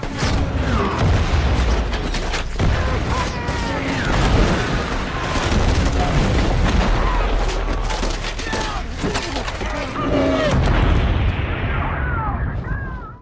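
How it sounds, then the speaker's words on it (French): Film sound effects of gunshots and explosions: dense, loud volleys of gunfire, booms and bursts of debris pile up continuously, with faint voices mixed into the battle noise. "Chaque détonation, coup de feu,"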